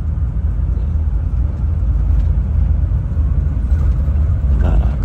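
Inside the cabin of a night sleeper bus on the Surabaya–Jakarta route, a steady low road and engine rumble drones on while driving, constant and enveloping, with faint rattles and no voices.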